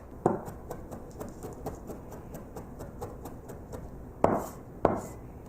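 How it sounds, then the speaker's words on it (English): A knife chops fresh herbs very finely on a board for chickpea pancakes, with quick, even, faint taps and a couple of louder knocks near the end. "you want to chop it very, very finely"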